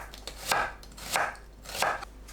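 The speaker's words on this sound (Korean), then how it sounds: "양파를 채 썰어 줍니다." A knife julienning onion on a cutting board gives three evenly spaced, fairly sharp chopping bursts over a steady faint background, close by and with no talk.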